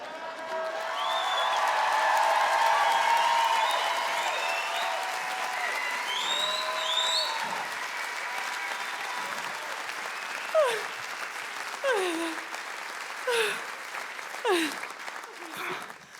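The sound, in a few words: audience applause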